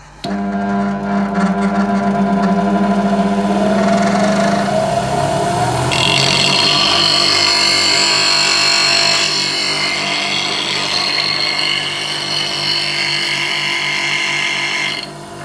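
A bench grinder fitted with a Oneway Vari-Grind 2 jig sharpens a woodturning gouge, a loud steady motor drone under continuous grinding and hissing as the bevel rolls across the wheel over several passes.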